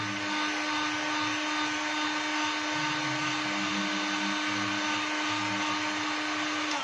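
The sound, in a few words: hot air gun blowing on low setting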